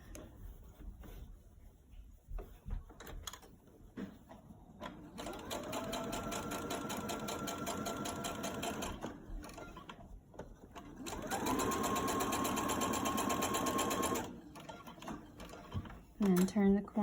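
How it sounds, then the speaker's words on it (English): A sewing machine stitches a fabric mask in two sustained mechanical runs, loud and close, with pauses and talk between them. "I'll stitch till I get just past it and then turn the corner."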